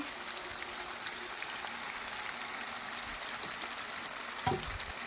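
Chicken masala frying in a pan, a faint, steady sizzle with light bubbling and one soft knock near the end, close up and without speech.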